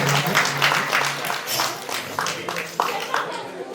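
Lively applause from a crowd at a Hindu temple bhajan gathering, dense clapping continuing throughout with a public-address voice speaking in Tamil over it.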